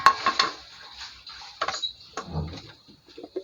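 Vegetables such as string beans and okra drop into a pot of tender boiled pork ribs, with close clattering of utensils and pot, a few knocks, and a wet, lumpy splash in the middle.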